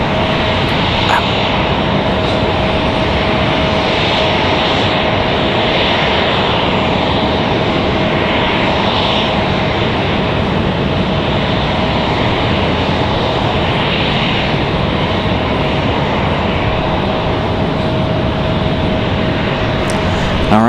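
Airliner taxiing at Raleigh-Durham International Airport, a steady continuous engine roar with a faint whine, loud and unbroken throughout.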